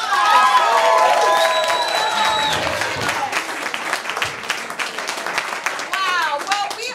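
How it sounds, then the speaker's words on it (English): An audience at an improv comedy class show claps and cheers, with whoops and shouts over the clapping at first, then the applause thins into scattered individual claps, with a high whistle near the end. "Give yourselves a round of applause!"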